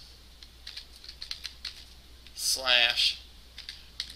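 Quiet clicks of a computer keyboard being typed on in a classroom lecture setting, scattered keystrokes throughout with a brief spoken word in the middle.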